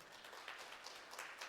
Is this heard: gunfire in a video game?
no